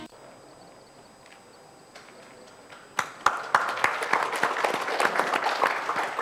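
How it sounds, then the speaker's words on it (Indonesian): A television studio audience in Yogyakarta breaks into applause after quiet room tone, scattered claps quickly building into steady clapping from many hands at moderate distance. "Jangan ragu-ragu kalau tepuk tangan"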